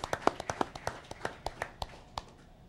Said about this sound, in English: Let's have a round of applause for our entire class